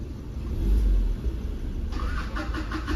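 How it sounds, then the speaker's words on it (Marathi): A Maruti Ertiga with a CNG kit idles after starting on petrol, a low steady engine rumble that swells briefly early on and then settles into an even hum, close by with no talking. "गाडी जी आहे ती पेट्रोलवरती स्टार्ट झालेली आहे."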